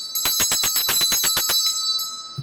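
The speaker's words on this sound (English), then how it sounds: "Okay, gonna ring the bell." A metal bell rings in a rapid run of about ten bright strikes that then trail off into a sustained ringing tone. It is close and clear, with no talk.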